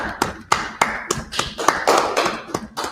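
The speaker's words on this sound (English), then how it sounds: "Let's clap it up." A small group claps hands in a loose, fairly regular rhythm, sharp close slaps about every quarter second, with some uneven overlapping claps in the middle and no talking.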